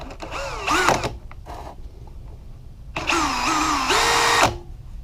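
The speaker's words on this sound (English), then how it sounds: "the fastest way to check them is put them in a drill" An engine valve from a Yamaha four-stroke is spun in a hand-tightened drill, giving two bursts of rising and falling electric whine, a short one and then a longer one, separated by near silence.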